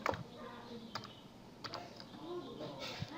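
Fingers type a captcha on a computer keyboard, tapping out a few quiet, scattered key clicks close by, with faint background sound between the taps.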